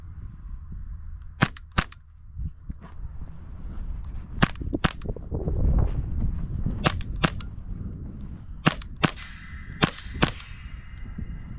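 Airsoft gun fired during stage practice, sharp cracking shots spaced irregularly, some in quick pairs, over a steady background rumble and low ambient noise.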